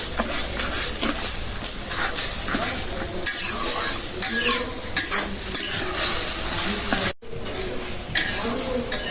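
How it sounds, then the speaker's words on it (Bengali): A pan of fish curry with cumin and other spices is sautéed and stirred over steady frying sizzle and hiss, with spoon scrapes against the pan throughout and a voice talking at times. "ভালো করে কষাই নিলাম"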